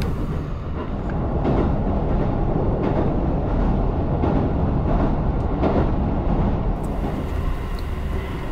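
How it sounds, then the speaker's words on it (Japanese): A train on the Ōu Main Line climbs through the Ōu Mountains in snowy country, heard from on board as a continuous loud rumble with rhythmic wheel clatter. It carries on steadily throughout, with no talking. "米坂駅を出発すると列車は奥羽山脈越えに挑みます。"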